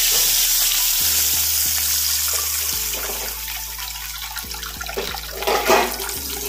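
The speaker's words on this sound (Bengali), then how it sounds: "জল দিয়ে দিচ্ছি।" Water poured into a pan of hot oil with chilli powder and spices, erupting in a loud close sizzle and rushing splash that settles into steady bubbling frying, no talk.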